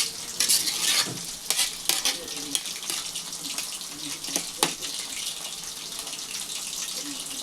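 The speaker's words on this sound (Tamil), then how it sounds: "பார்த்து பொறுமையாக கிண்டணும், அரிசி உடையாத போல்." Chicken biriyani rice is stirred gently in a pot, giving soft repeated scraping and clinking strokes over a faint sizzle, close and fairly quiet.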